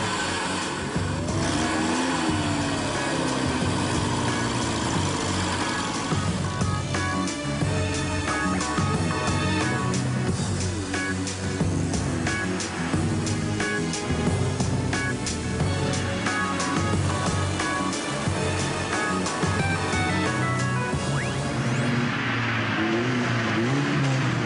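A loud Formula Ford racing car engine revs and roars continuously, climbing and dropping in pitch as it accelerates, close and steady with no talk.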